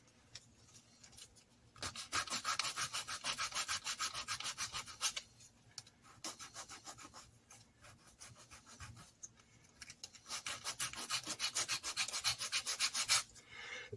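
Steady back-and-forth rasping of sandpaper on wood, in long bursts with brief pauses between strokes, close by and fairly loud, while sanding ash off parts for a boat and gas dock diorama.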